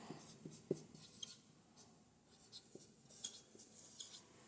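Pen or pencil writing during a maths lesson on skip counting, faint scratchy strokes in short bursts with a few small taps, alone and without talk.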